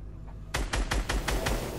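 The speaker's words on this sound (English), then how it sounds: "How can you shoot me from above?" Rapid burst of about six loud, evenly spaced gunshots from a Fortnite match, sharp and close, following a brief quiet moment with no talking.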